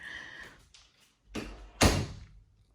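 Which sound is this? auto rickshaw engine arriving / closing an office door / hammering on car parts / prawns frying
closing an office door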